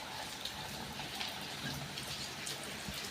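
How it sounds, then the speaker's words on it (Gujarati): Rain falling steadily outdoors, a soft, continuous patter of drops on surfaces, fairly faint and even throughout, with no speech. "વરસાદ તો જો પાછો શરૂ થયો"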